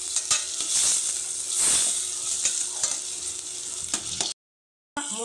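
Prawns sauté in a pan with drumstick and potato pieces, hissing and sizzling steadily under repeated spatula scrapes and taps, before the sound cuts out abruptly for a moment near the end.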